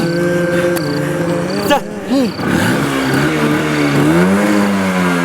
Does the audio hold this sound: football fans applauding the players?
no